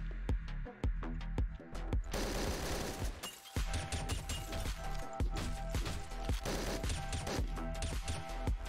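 Gunfire in the top-down shooter Hotline Miami: rapid bursts of sharp shots, at times overlapping like automatic fire, mixed with crashes and shattering over game music.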